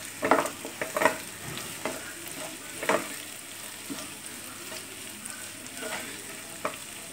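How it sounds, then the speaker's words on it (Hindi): Capsicum frying in a pan for chilli potato gives a soft, fairly quiet sizzle broken by occasional clacks of a stirring spoon. "शिमला मिर्च को भी हम फ्राई कर लेंगे।"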